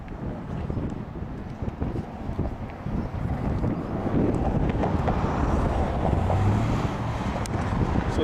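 Gusty wind buffeting the microphone over a lake at a rowing regatta, a steady loud rushing roar that swells a little in strength, with no clear voices.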